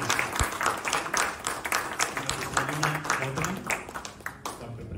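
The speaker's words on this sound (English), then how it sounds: "Let's give a big round of applause." Audience applause after a Carnatic music concert, many hands clapping with distinct individual claps audible, moderately loud and sustained, with a voice speaking briefly over it.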